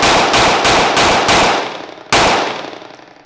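A Sig P365 pistol fires a quick string of five loud, sharp shots, each ringing briefly. After a short pause comes one more close, loud shot that decays slowly, and no one speaks.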